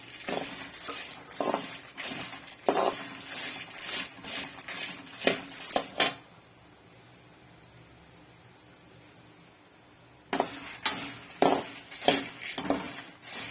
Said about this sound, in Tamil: கொஞ்ச நேரம் நல்லா வறுத்துக்கலாம் இந்த பச்சை வாசனை போயிட்டு நல்லா பொன்னிறமாக வர அளவுக்கு இதை வறுத்துக்கலாம்